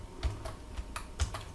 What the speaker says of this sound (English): And here I type Bob